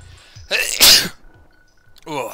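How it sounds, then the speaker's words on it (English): A single loud, close sneeze rings out after a brief inhale, followed by a moment of quiet and then some speech. "I'm gonna sneeze."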